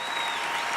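A short burst of sampled crowd clapping fired from a streaming sound sampler, even and continuous at moderate level.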